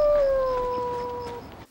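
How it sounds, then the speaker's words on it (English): One long, drawn-out dog howl with a slowly falling pitch, loud and close, fading out after a bit over a second with no talking. "That dog did not sound interested at all."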